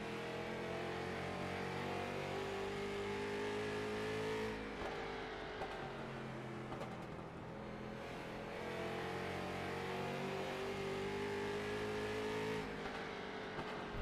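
Onboard engine of the leading street stock car at South Boston Speedway in a sim race, a loud steady drone that rises and falls with throttle through the laps, with no voices over it.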